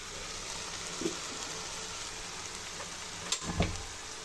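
Chicken frying in a pan on a home stove, a steady close hiss of sizzling oil running throughout, with a couple of faint knocks and a sharper clatter near the end.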